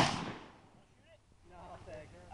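A 50 BMG rifle fires at an outdoor shooting range. One loud, heavy blast opens the clip and booms away into the distance, and faint voices follow.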